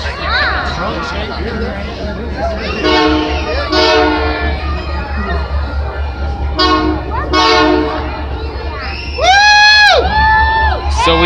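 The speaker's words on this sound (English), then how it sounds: "We got the CP Christmas train coming." Canadian Pacific Christmas train rolling past on the Windsor Subdivision along Richmond Street in London, Ontario, loud and close with repeated horn blasts over rumbling railcars, crowd chatter and children's shouts throughout.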